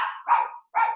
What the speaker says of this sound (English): that's a dog. I don't know where it's coming from.